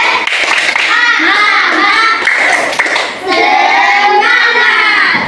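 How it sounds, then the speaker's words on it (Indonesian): Elementary schoolchildren in a classroom perform a rhythmic spirit clap, tepuk semangat, with sharp clustered hand claps mixed into loud, close group chanting and children's voices throughout. "Tepuk semangat"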